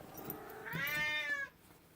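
A cat gives a single clear, drawn-out meow lasting about a second, close and fairly quiet in a calm room.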